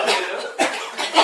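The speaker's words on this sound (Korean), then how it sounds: "기침을 크게 한번 해보세요." A single loud cough from a person during an acupressure session for lower back pain, followed by a couple of shorter breathy bursts, close up with no talking.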